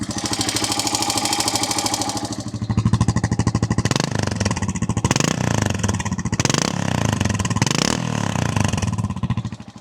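A fully rebuilt and restored 1983 Yamaha XT600 Ténéré 34L single-cylinder motorcycle engine runs steadily up close, with a loud, even thumping pulse and a few brief blips of throttle in the middle.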